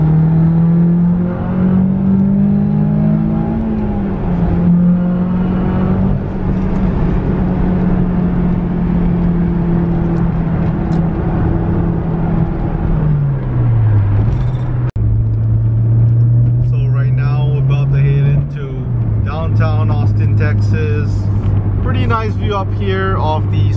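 Honda S2000 sports car pulling hard through the gears in city traffic, a loud close engine drone climbing in pitch, dropping at shifts and rising again, with someone talking over it from inside the car.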